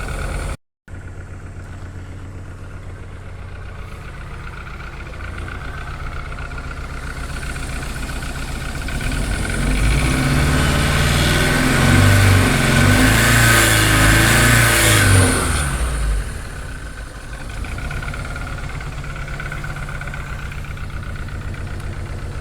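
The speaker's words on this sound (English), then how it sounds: "it's rough idling, but it should come up." A car engine idles roughly and revs while warming up, a steady close-up drone that swells louder in the middle, then settles back to a rough idle, with no talking.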